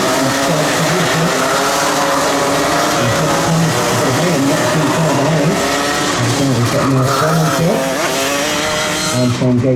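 Racing karts on the opening lap of a winter trophy race at Genk, a loud, sustained pack of high-revving engines passing close, with overlapping buzzing tones that rise and fall.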